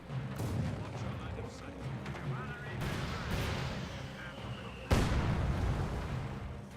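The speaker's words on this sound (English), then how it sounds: "Incoming mortars! Taking effective fire!" Mortar and artillery fire in the strategy game Company of Heroes 2, dull distant thuds and a sharp louder blast near the end over a constant rumbling battle bed, with faint game voice chatter.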